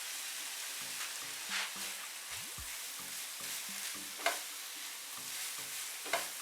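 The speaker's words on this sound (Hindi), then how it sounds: "सब्जी और चिकन को अच्छे तरीके से भून लेंगे।" Vegetables and boiled chicken with soy and chili sauces frying in a pan: a quiet continuous sizzle with rhythmic spatula scrapes and clinks against the metal, plus a couple of sharper knocks.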